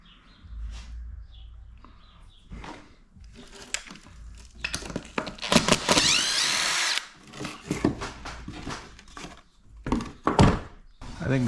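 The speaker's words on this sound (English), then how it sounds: "the sheetrock screw was having a hard time penetrating" Sheetrock screw driven by a power drill into a hard poplar 1x board, struggling to bite, with repeated short bursts of drill whine and thunks, one longer loud run in the middle, close up.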